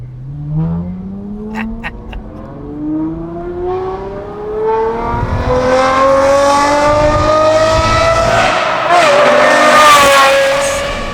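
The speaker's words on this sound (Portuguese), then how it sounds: "esse é o ronco V12 mais bonito que ele já ouviu" An Aston Martin with a manual gearbox and a V12 engine roars loud and close, its pitch climbing steadily as it accelerates, swelling into a fuller, harsher snarl near the end.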